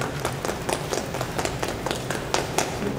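An audience at a Korean army musical press conference claps in a brief, fairly even burst of applause that sounds close and continuous.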